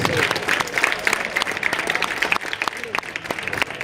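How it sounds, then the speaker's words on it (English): An audience at the KIS Valete 2026 event applauds award winner Chaya Shankar Khotri, star of the year: a dense, steady wash of clapping that holds at a fairly even level throughout, with voices mixed in underneath. "Give her a big applause"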